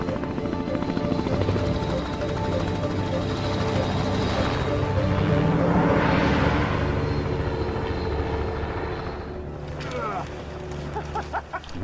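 A helicopter flies over the Arctic, its rotors making a steady, fairly close drone that swells to a peak midway and then eases off.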